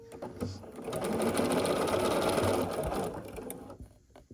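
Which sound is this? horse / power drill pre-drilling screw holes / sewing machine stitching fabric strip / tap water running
sewing machine stitching fabric strip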